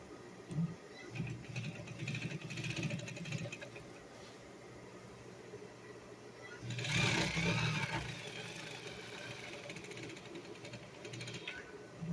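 A sewing machine stitches a buttonhole in trousers, whirring softly in short runs with a louder burst of mechanical rattling partway through.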